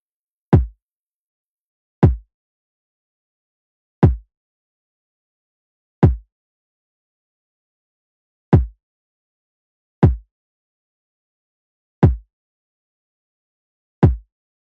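Soloed kick drum: a solid, deep low-end thump struck alone about every two seconds, each hit short and punchy with silence between, eight hits in steady time.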